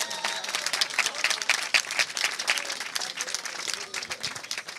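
An audience at a press group's tenth-anniversary celebration applauds a Beninese music icon with steady, dense clapping that stays lively and close throughout.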